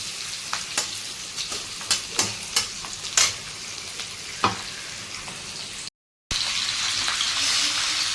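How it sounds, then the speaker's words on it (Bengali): Chilli chicken pieces frying in a pan, a steady sizzle broken by sharp stirring scrapes and clatters, closing on a louder, denser sizzle after a short dropout. "তিরিশ পঁয়ত্রিশ সেকেন্ড একটু ভেজে নেবো খুব লাল লাল করতে হবে না নিয়ে নর্মালি ভেজে নেবো"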